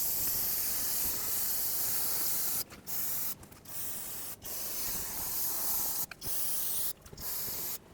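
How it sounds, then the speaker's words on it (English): Brake parts cleaner hisses loudly from an aerosol can onto a wheel hub in close, steady bursts, with several short pauses between sprays. "I'm going to clean everything with brake parts cleaner."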